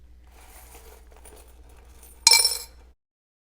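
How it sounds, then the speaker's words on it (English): A burst of coins poured out of a bank bag into a container, a loud half-second cascade of metallic clinking and jingling that follows a quiet stretch of faint room noise. "I'm just going to pour these coins in here."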